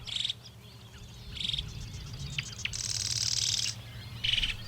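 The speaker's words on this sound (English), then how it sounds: "That sound you hear? That's a marsh wren." A marsh wren sings near a lake, giving short bursts of buzzy, rattling high notes repeated several times over quiet ambient hum, with no talking.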